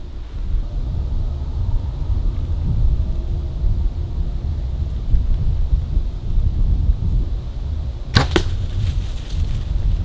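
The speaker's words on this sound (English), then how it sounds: "it's so windy right now" Steady low rumbling wind buffets the microphone throughout, with a sharp gusty crackle near the end.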